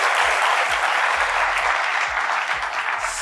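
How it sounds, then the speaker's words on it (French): People at a large café-style public event applaud gifts being handed out, a sustained, even roar of many hands clapping together at close range. "On va applaudir tout ça."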